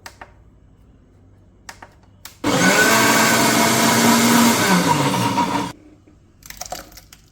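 Mixer grinder blending prawns, a loud, dense whirring grind that starts abruptly, holds steady for about three seconds and cuts off, with quieter kitchen handling noises before and after.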